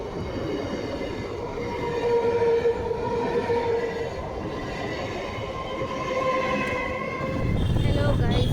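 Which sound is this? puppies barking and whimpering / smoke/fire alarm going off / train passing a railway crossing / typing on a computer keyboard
train passing a railway crossing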